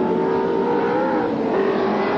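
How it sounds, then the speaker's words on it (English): A Nissan touring race car at the 1989 ATCC round at Winton snarls with its engine revving, a loud nasal drone whose pitch rises and dips over a couple of seconds. "They cranked up the 3rd car."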